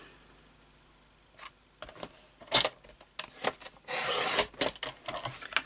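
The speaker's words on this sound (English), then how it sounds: "So I'm going to just pop that in my trimmer." A paper trimmer slices through cardstock, producing short scraping rubs and rasping blade strokes with a louder sustained swipe near the end, close and fairly quiet, with no talking.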